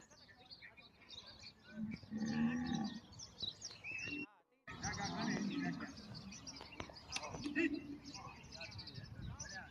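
Kankrej cattle herd standing in a grazing field, a few deep moos and lowing calls near and far, with chirping birds and someone talking over much of it.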